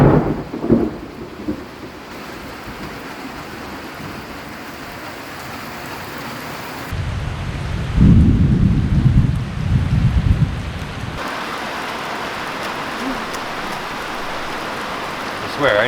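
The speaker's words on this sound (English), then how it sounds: "even though we can't work in the rain, we need the rain for so many other things." A thunderstorm over an off-grid homestead garden brings rolling thunder and steady heavy rain, with a loud rumble surging in the middle and rain hissing throughout.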